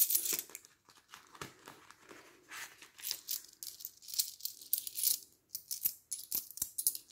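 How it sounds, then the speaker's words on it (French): Coins clink and rattle in irregular bursts as they are picked out of budget envelopes and handled nearby, mixed with faint paper crinkling. "je vais enlever les pièces et les mettre dans le budget"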